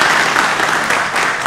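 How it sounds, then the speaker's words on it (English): An audience at a board meeting breaks into loud, dense applause that holds steady as a close, continuous roar of many clapping hands. "Clap for that"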